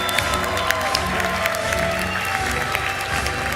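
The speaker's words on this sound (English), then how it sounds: "Please give a round of applause for the third row of graduates." Audience applause for a row of graduates at a high school graduation ceremony in an auditorium in Jeddah: dense, continuous clapping from a large crowd with scattered cheers.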